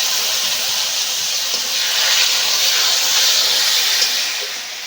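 Water splashed onto spices frying in a pan for a taro (kochu) and rohu fish curry sets off a loud, steady steam hiss and sizzle that swells slightly, then eases toward the end.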